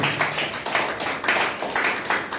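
A church congregation claps in rhythm during a Sunday service, regular bursts of many hands about twice per second, fairly close and lively, with no talking over them.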